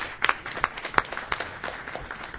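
Scattered applause from an audience at a board of directors meeting, a short burst of uneven hand claps at moderate loudness, close by and without talk.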